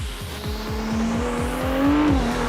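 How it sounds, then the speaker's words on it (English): A 2022 Ferrari 296 GTB accelerates hard, its engine note climbing steadily with a rapid, rhythmic pulsing, loud and close, with no talk. "let's try to make an acceleration and listen to the sound of the 296 GTB."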